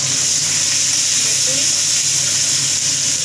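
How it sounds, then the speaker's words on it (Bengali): Onion, black cumin and green chili sizzling in hot oil in a pan, a steady loud continuous hiss and crackle throughout. "আমরা কিছুটা পেঁয়াজ, কালো জিরা, কাঁচা লঙ্কা এখন ফোড়নে দিচ্ছি।"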